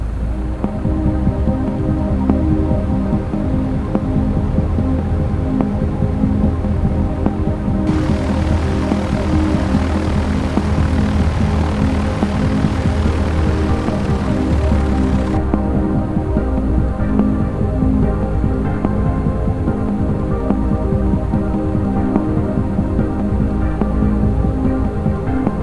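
A propeller airplane engine in X-Plane 11 roars at steady takeoff power, a loud continuous throbbing drone with a brief brighter hiss partway through, no voices over it.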